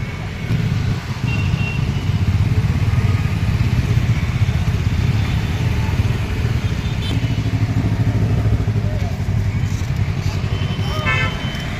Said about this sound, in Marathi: हे निघालेले आहेत बाईक स्वार